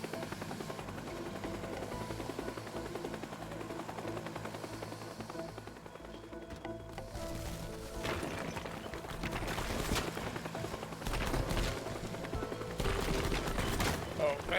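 Pipe bomb going off in the destruction game Teardown, a loud burst of blasts and crumbling debris rising after a quieter stretch, with gunfire-like cracks and rumble continuing to the end.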